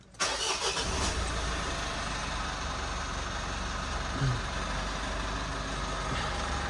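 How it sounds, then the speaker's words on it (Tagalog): A car engine cranks and catches in the early morning, then settles into a steady idle that holds close and constant under a faint background hiss, with no talking. "Start natin sa sasakyan."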